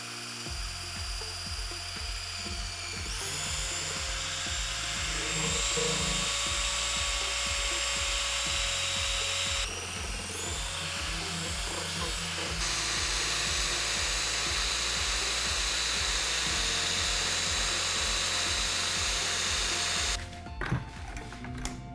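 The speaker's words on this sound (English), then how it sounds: "It's kind of nice to have an electric drill because they're pretty powerful." An electric drill with a mixing paddle stirs epoxy in a bucket for a black, orange and silver countertop pour, a steady motor whine running loud and continuous for about twenty seconds with brief shifts in pitch and load, no talking.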